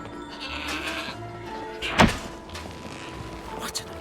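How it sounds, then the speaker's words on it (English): A goat in the video game Trine 4 lets out a short bleat amid steady game ambience, with a thump landing midway and faint background tones. "What an amazing goat!"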